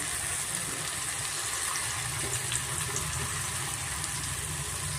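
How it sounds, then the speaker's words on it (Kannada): Raw banana kebab pieces fry crisp in hot oil over a medium flame, a dense, even bubbling hiss that stays constant and close for a few seconds without any voices. "ಸ್ವಲ್ಪ ಮೀಡಿಯಮ್ ಫ್ಲೇಮಲ್ಲೇ ನಾವು ಚೆನ್ನಾಗಿ ಕ್ರಿಸ್ಪಿಯಾಗಿ ಫ್ರೈ ಮಾಡ್ಕೊಬೇಕಾಗುತ್ತೆ"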